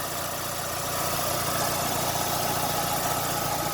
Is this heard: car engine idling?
yes